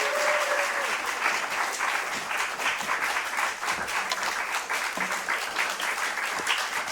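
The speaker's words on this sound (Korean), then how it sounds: "박수로 환영해 주시길 부탁드립니다." A church congregation at a Friday evening service applauds together. The clapping is dense and continuous, a steady roar of many hands that holds for several seconds in a large room.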